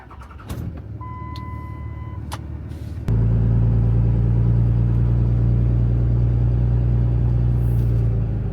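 A car starts up and settles into a loud, steady engine rumble for Vancouver driving, with a few clicks and a brief tone beforehand, no talking.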